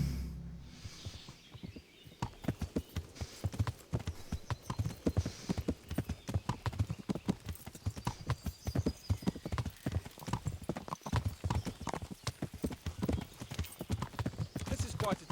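Horse hooves clip-clop at a steady gallop in Kingdom Come: Deliverance, a rapid rhythmic drumming that runs throughout the ride, close and clear, with a brief whinny and occasional talk mixed in.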